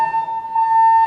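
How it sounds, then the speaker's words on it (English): A building fire alarm gives one loud, steady electronic tone that holds at constant pitch without a break, close and clear. "And we have a fire alarm."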